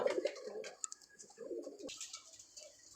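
Pigeons kept for sale coo faintly and intermittently at a distance, soft low warbling calls with a few brief chirps and rustles between them.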